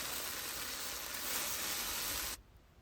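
Okra dusted with turmeric sizzles steadily in a hot frying pan as it is stirred, a dense, even hiss that holds for over two seconds and then cuts off abruptly, leaving only a faint quiet tail.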